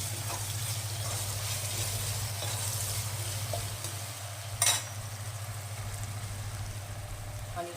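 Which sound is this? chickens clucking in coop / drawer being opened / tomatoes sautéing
tomatoes sautéing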